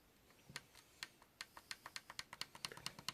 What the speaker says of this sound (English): That's me clicking the button in.